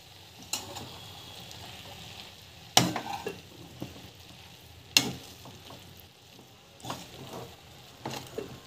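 Idli podi being stirred into a vegetable stir-fry in a pan, a soft background sizzle punctuated by irregular loud spoon knocks and scrapes against the pan, close by.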